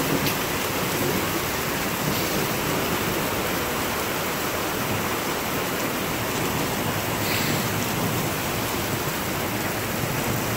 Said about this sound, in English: One of the absolute best things about North Dakota is the thunderstorms.